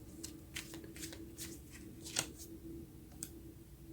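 Tarot cards shift and slide as one is drawn from the deck, making a series of soft, close papery flicks and rustles in a quiet room.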